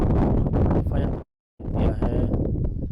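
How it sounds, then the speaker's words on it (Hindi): Strong wind gusts at an outdoor cricket ground during a club match in Chitral roar loudly across the microphone as a dense, rumbling rush, cut off briefly by a moment of silence before the buffeting resumes. "तेज़ हवा चल रही है"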